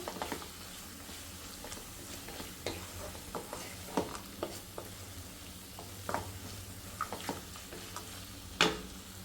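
Coriander is stirred into a mango rice masala in a pan, producing a soft sizzle with scattered scraping taps and clinks of the spoon against the pan, irregular and fairly close.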